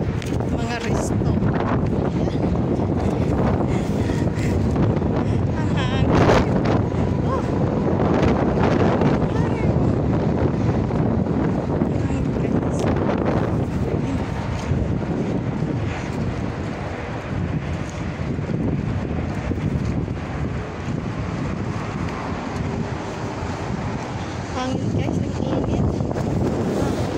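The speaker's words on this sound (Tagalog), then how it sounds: "Kasi mahangin talaga." Strong wind buffets the microphone with steady, loud low rumble and gusty roar throughout, outdoors on a street near shops and restaurants, with a person talking at times under the noise.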